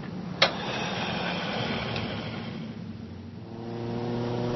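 A gasoline car engine revs steadily at moderate loudness, with a sharp click near the start and the pitch settling into a lower, even hum toward the end.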